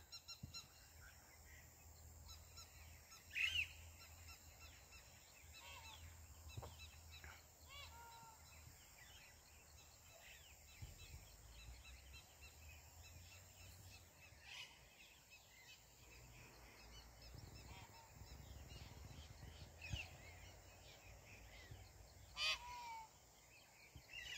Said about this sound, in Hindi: इस जगह से सामने पिकॉक कर रहा है आवाज़, और सामने इन सेमल के पेड़ों से आ रही है पैरेट की आवाज़।